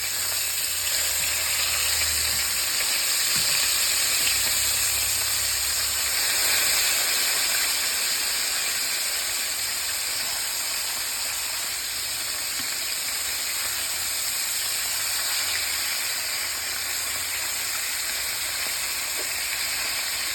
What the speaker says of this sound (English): now I'm just going to flip the pork chops. They've been cooking for a little bit